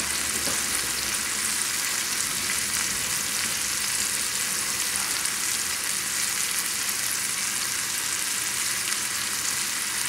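Cajun Creole chicken tenders fry in a pan with a steady, dense sizzle that holds evenly for the whole stretch, close and fairly loud, with no voices.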